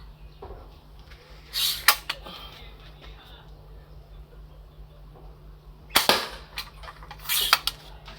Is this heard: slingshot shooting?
yes